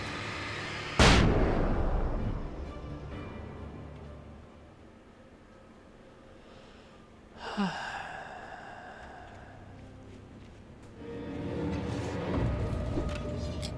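A flashbang grenade goes off in the Alan Wake video game, a loud sudden blast with a long ringing decay. A second, softer burst follows midway, and a swelling rumble builds near the end.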